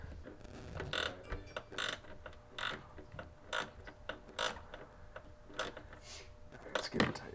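A hose clamp on a PRL Cobra race cold air intake is cranked tight on a 2020 10th-gen Honda Civic Si, giving a string of sharp ratcheting clicks and creaks in short bursts, with some faint movement noise between them.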